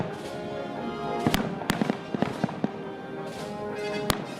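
Fireworks bursting in a scattered series of sharp bangs and crackles over a rumbling outdoor background, several loud pops spaced irregularly.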